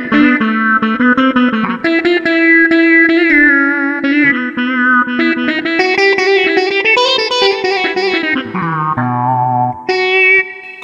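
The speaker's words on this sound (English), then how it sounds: "this is the choral sitar" Line 6 Variax Standard modeling guitar set to its coral electric sitar voice, playing a ringing melodic line with buzzy, drone-rich sitar-like tone, effects and reverb, up close and alone.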